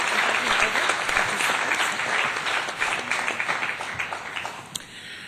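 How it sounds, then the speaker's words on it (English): Sustained applause from an audience at an economic summit, a dense wash of clapping that holds steady and only slightly thins toward the end. "Let's give him another big round of applause for all those."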